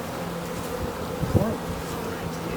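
Bees buzz steadily around a hive, a low droning hum with one bee passing close and loud midway.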